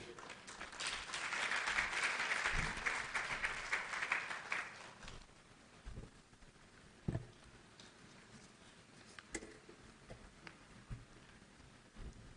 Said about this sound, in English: with a round of applause, shall we please receive Mr. Jean-Marie Kofi